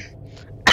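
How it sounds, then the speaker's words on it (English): One sharp, close cough bursts out at the end of a quiet stretch of low room hum during a horror game session. "sorry if there's coughing throughout the video"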